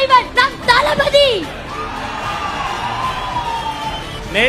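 A packed hall crowd at a rally for a leader called Thalapathy bursts into loud, sustained applause, with whoops and shouted voices rising over the clapping at the start before it settles into a steady roar.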